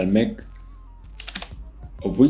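Computer keyboard keys tapped in a short run of light clicks during photo retouching work, with a voice talking before and after the keystrokes.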